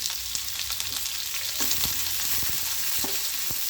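Steady sizzling of small onions frying in hot oil with mustard seeds, with occasional scraping and stirring clicks, close and continuous throughout.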